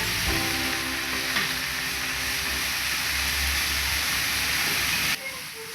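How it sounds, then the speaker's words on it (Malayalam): Masala sautéing in a pan, with a loud, continuous close-up sizzle and hiss and occasional stirring, cutting off abruptly near the end with no one talking. "നന്നായിട്ട് മസാലയുടെ പച്ചമണം മാറുന്നവരെ ഒന്ന് വഴറ്റി കൊടുക്കാം."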